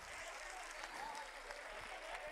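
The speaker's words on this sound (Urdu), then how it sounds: "زوردار تالیوں سے استقبال کرے" An audience at a religious education gathering in Aurangabad applauding to welcome guests onto the stage, a dense, continuous wash of clapping that is fairly faint and distant throughout.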